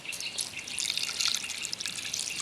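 Pabda fish left soaking in water, giving a steady close trickle and light dripping with bright splashy detail, continuous and fairly quiet with no voices.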